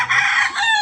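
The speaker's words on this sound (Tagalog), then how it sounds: "may mga manok dito, alaga yung may-ari ng bahay nito. Yung mga native na manok yan." Native chickens kept at a lone farmhouse amid vegetable fields, with a rooster crowing one loud, close, drawn-out cock-a-doodle-doo that fills the short moment on its own.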